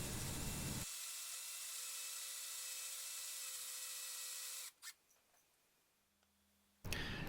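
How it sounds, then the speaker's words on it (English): A high-pitched drill whines steadily for several seconds, drilling eye sockets in a leopard wood fishing lure, then cuts out, leaving a quiet pause before a brief burst of noise. "I'm just going to drill the eye sockets."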